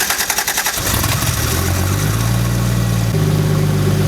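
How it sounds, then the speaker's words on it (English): A Toyota Supra engine starts up: a brief burst of cranking pulses, then it catches with a loud rev and settles into a steady, close idle, with no voices. "now let's have a listen to the startup of this legendary engine."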